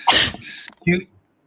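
A single sharp human sneeze, close and loud, followed by a short breathy after-sound and then silence.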